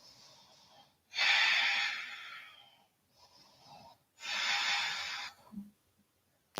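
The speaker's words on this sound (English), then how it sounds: "Take a few deep breaths." Deep yoga breathing, two long, strong breaths each lasting about a second, with a quieter breath between them and brief silences in between, heard close up.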